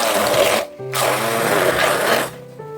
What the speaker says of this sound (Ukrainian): Але я хочу це взбити блендером.